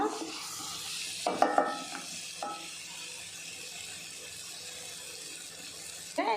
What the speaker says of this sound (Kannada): ನೀರ್ಲ ಪಾಡುವೆ